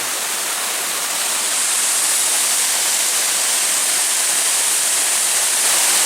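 Steady roar of a waterfall at night in the Réunion forest, a dense continuous rush of falling water close by, unbroken and loud for the whole stretch.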